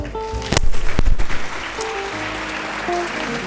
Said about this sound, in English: So I hope we can give ourselves a round of applause